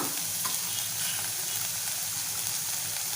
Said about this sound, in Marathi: दोन तीन मिनटं आपल्याला परतवून घ्यायचं आहे तेलामध्ये आपलं वाटण